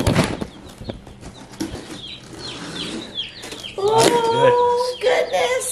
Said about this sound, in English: There's some chicks.